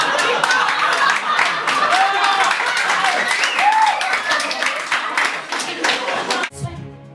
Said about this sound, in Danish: Det er meget spændende, at der bliver grinet og klappet